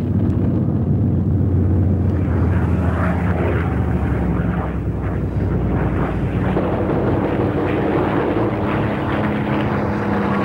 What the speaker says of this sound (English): it gave the Spitfires greater power, greater lift, greater maneuverability in their air battles with the Messerschmitts